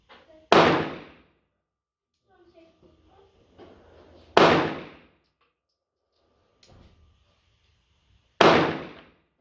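A Tisas 9mm Tank Commander pistol with a short barrel fired offhand at 12 yards on a range: three loud, sharp single shots spaced about four seconds apart, with faint handling noises between them.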